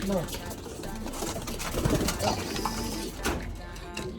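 Pigeons coo nearby in a loft, soft and throaty, under close conversational talk with some handling clatter.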